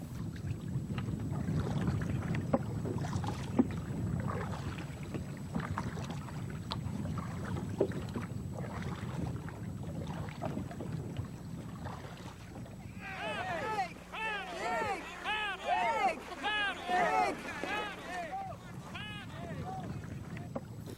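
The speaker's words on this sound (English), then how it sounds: "Canoeing can take you gliding through the still waters of an icy lake." A canoe glides across a still, icy lake near Ketchikan, Alaska, with soft water and steady wind rush at the microphone. A voice talks over the second half.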